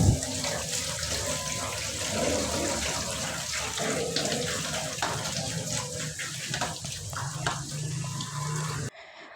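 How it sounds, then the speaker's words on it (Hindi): Tap water runs steadily over cooked spaghetti being rinsed in a kitchen sink, a continuous close splashing rush with no talk. "अब मैं जो स्पैगेटीज़ हैं उनको अच्छे से ना खुले पानी से वॉश कर रही हूँ"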